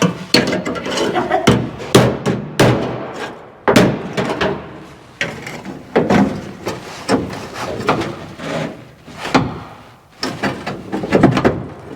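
Metal is hammered on an anvil in a workshop with sharp, close, loud blows at an irregular pace and short pauses between strikes.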